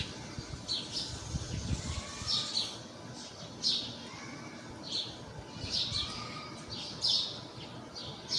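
Birds chirp in a rural morning setting, short high tweets recurring about every second against a soft background hum, moderately distant.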